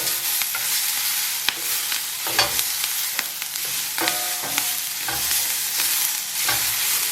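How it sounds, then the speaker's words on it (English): Cumin and paprika frying in oil in a pan for shakshouka, stirred with repeated scraping strokes over a steady, close sizzle, with no talking. "So a bit of cumin, and then we're going to stir this together"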